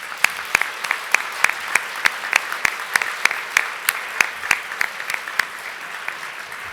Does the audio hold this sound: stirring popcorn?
no